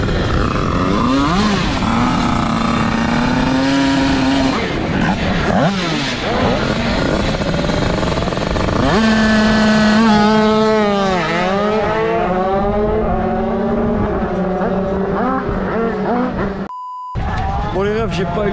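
A heavily modified car at full throttle on an official run, its engine roaring loud and close with rising and falling revs and shifting pitch, cutting off abruptly near the end.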